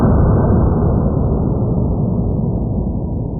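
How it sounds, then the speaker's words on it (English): Starter's pistol bang slowed down to last two minutes, heard here as a loud, deep, continuous muffled roar with no high end, rumbling steadily with a slight fade. "just the beginning of a 2-minute gunshot sound"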